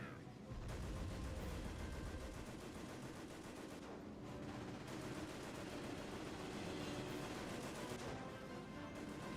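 Dense, continuous gunfire and heavy shots directed at enemy tanks in a war strategy game, a loud sustained barrage that barely pauses throughout.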